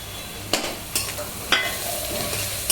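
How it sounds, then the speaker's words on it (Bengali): Onion and grated carrot stir-fry in a pan for chilli chicken, a steady sizzle broken by several sharp scrapes and clicks of a spatula, close and without speech. "পেঁয়াজটা মোটামুটি হালকা ভাজা হয়ে গেছে, গাজর ইয়েটা দিয়ে দিলাম, গ্রেট করা গাজরটা।"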